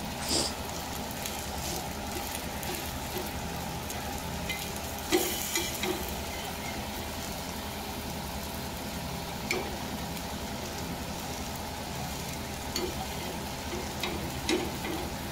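Patishapta pancake batter cooking in a frying pan, a low continuous sizzle running throughout with occasional soft scrapes and taps from a utensil.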